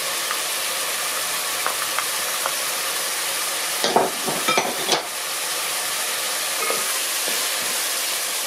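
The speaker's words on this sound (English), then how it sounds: "When our beef turned brown, we can add our garlic and the onion." Garlic and onion dropped into browned beef in a hot pan for beef porridge: steady loud sizzle throughout, with a burst of stirring and scraping clatter mid-way.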